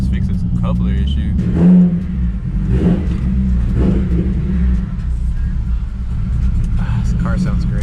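A turbocharged car engine built for high boost runs with a steady, loud low rumble and whir, swelling briefly as if revved, while voices talk faintly underneath.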